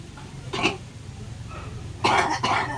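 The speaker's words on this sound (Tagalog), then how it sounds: "Sana yung ubo mo mawala." Two sharp coughs, the first a single bark, the second a louder double cough near its end, over a low steady hum.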